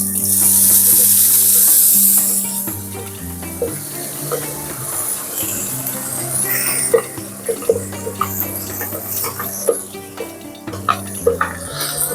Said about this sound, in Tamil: இப்போது அரைச்சி வச்சதை அதில் ஊற்றிக்கலாம்